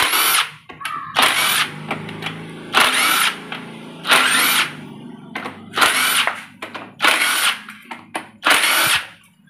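A power tool loosening the locking bolt on a pump during a vehicle repair, loud short whirring bursts repeated about seven times, with quieter clicks and shuffling in the pauses.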